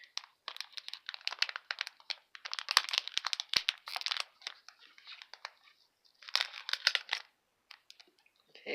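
Crinkly plastic wrapper of a Naruto trading card pack being torn and crumpled in bursts, close up, with pauses between handling noises.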